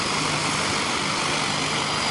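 An agricultural drone sowing a rice field hums with a steady, droning motor whine, a constant buzzing engine noise with no breaks.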